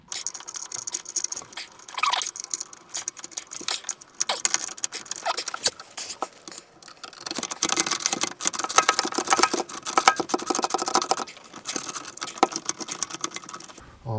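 A socket wrench on a short universal-joint socket tightens a bolt on a replacement gearbox, giving a long run of close, dense ratcheting clicks and metallic rattles in uneven bursts with no talking.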